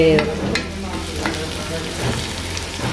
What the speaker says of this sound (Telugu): ఇట్లా మనకి కొంచెం ఆనియన్స్ ఫ్రై